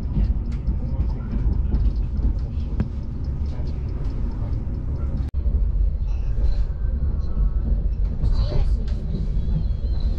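Train standing at a station in Belgrade, Serbia: a steady low rumble of rail cars and idling machinery with faint clicks and a sharp metallic knock partway through, heard nearby with no clear talk over it.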